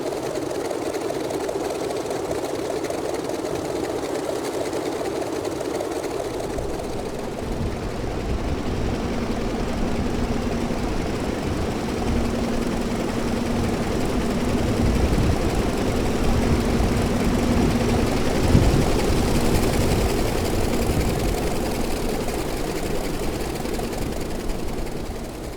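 The engine of a Grumman F3F biplane in Microsoft Flight Simulator idles and rumbles steadily while lining up on the runway, a continuous close drone with a rough, knocking texture that swells slightly midway.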